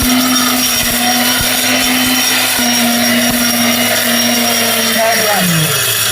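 A robot grinder kitchen appliance runs at a steady loud motorized whir, a constant droning hum with a slight pitch drop near the end, in a shop setting.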